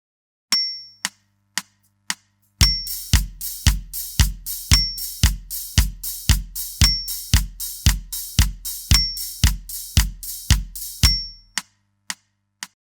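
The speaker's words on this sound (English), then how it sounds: "We get a disco beat that sounds like this." A disco drum beat on a kit: the bass drum stamps steadily while the hi-hat opens between beats, loud and close, after a few sparse opening hits and ending with a couple of isolated strikes.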